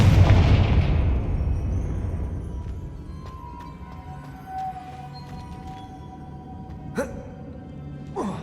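A Confringo fire spell blasts in Hogwarts Legacy, a loud booming explosion that rumbles and slowly fades over several seconds, followed by faint, distant pops.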